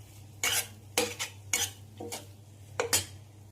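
Tuna is stirred into thick masala in a pan for a quick fish pickle. A spoon scrapes against the pan in about six distinct strokes over a low, quiet sizzle.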